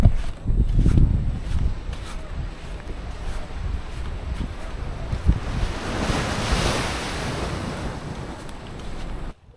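Sea waves roll onto Dibut Beach in San Luis, Aurora, with steady surf wash and wind buffeting the microphone, a louder surge building midway before fading, heard alone without talk.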